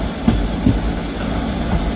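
Train 14735, the Sri Ganganagar to Ambala Cantt service, rolls into Nabha railway station with a loud, steady low rumble and a couple of sharp wheel clicks, with no talk over it.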